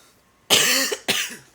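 Two harsh, raspy coughs from one person, close and loud, the second following about half a second after the first in an otherwise quiet room.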